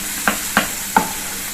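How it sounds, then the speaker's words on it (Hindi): Turmeric and coriander powder roasting in a pan, with three distinct spatula taps against the pan over a faint background hiss, close and short. "तो भून लें, थोड़ा सा भून जाएगा मसाला"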